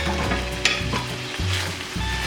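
Carrots sizzle steadily in a hot frying pan for fresh lumpia filling while a utensil stirs and scrapes through them, close and alone with no voices.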